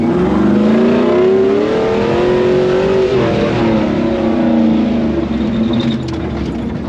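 A Jeep JL engine revs while crawling over rocks on the Rubicon Trail, rising and falling in pitch in a loud, close, sustained roar with no speech.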